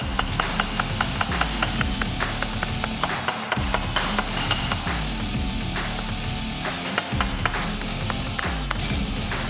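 Rapid, steady metallic tapping of a small hammer on a metal part held in a vise, close and bright, continuing almost without pause, with two brief breaks.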